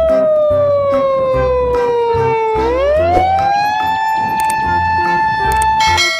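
A toy police car siren wails loudly and continuously, sliding down and then back up in pitch, with a steady buzzing tone underneath.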